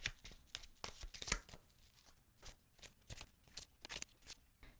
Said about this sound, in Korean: 이렇게 카드 뽑아 보았는데요